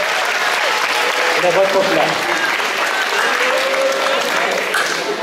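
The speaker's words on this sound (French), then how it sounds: "Une bonne main d'applaudissement pour" An audience at a school science fair claps steadily in loud, sustained applause, while a voice briefly speaks over the clapping.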